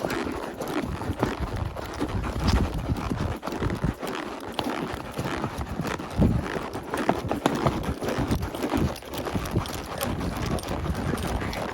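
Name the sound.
horse hooves while riding on a trail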